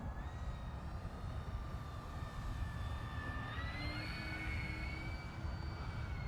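A model airplane with full flaps deployed flies around in calm, windless air, its high engine whine steady and sustained, shifting pitch as it banks past, with constant broadband wind and ambient noise underneath.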